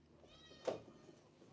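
A house cat named Bumble lets out one short, faint meow midway through, indoors near a camera, with quiet background otherwise.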